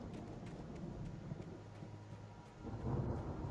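Low rolling thunder rumbles through a lightning storm in the video game Alan Wake, a steady broadband roar that swells louder near the end, with no speech.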